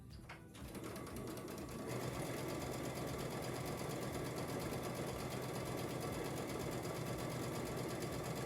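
Home sewing machine chain-stitching quilt pieces, starting after a brief pause into a fast, continuous rattling whir that runs steadily and close without breaks.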